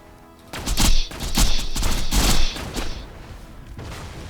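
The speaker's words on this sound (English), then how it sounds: "Didn't see that spider tank there. Shooting rockets." Spider tank firing rockets in Borderlands at Digistruct Peak, a run of loud booming blasts and thuds in quick succession, close and forceful, fading into a low rumble.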